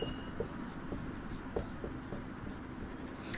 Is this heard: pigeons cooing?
no